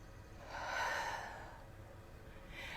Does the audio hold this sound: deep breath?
yes